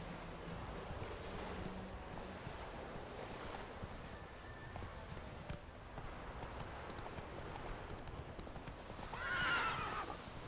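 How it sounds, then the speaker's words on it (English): Steady clip-clop of horse hooves under a constant windy, surf-like wash, with a brief whinny near the end; no speech. "The horse in the way."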